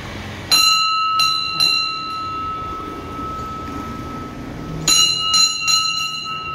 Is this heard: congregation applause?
no